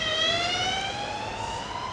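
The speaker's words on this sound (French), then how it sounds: "Les ambulances." Ambulance siren wailing steadily and loudly in a Spanish town street in Marbella, a continuous rising tone that fills the whole moment with no talk.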